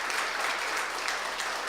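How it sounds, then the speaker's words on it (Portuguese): Church congregation clapping together during a family worship service, a dense, steady burst of applause from many hands, fairly distant and without talk. "Palmas para Jesus."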